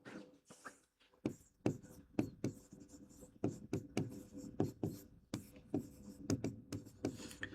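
Chalk or marker writing on a board in a classroom-style setting: a close run of short scratchy strokes and taps in irregular bursts, with short pauses between words.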